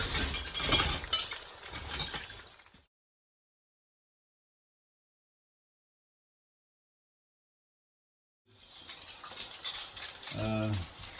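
Dishes and cutlery clink as potato fritters are placed on a plate, close and brief, in two bursts separated by a long silent gap.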